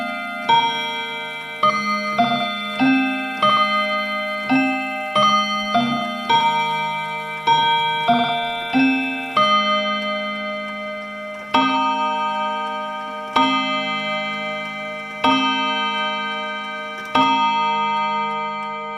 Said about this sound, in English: it will play the entire chime, followed by whatever hour it is, and it will hit the bars signifying the hour